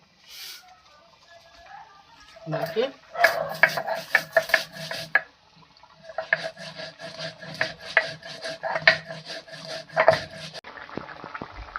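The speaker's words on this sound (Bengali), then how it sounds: "জিরে দিয়ে, গোলমরিচ দিয়ে, রাঁধুনি দিয়ে বাটবো" Cumin, black pepper and radhuni being ground into a paste, heard as close, rhythmic rough scraping strokes in bursts, with a brief pause between the two runs of grinding.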